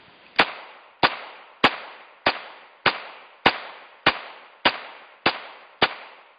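A Smith & Wesson 22A-1 pistol, just back from repair, fires a full magazine of M22 rimfire rounds: ten sharp, loud cracks at a steady rhythm of about one shot every 0.6 seconds, each trailing a short echo, with no voices.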